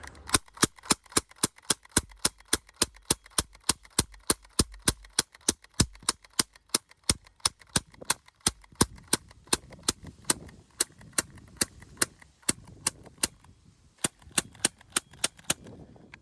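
Rapid, evenly spaced sharp snaps of a Crosman C11 plastic air pistol dry firing, roughly three per second, continuing without pause throughout.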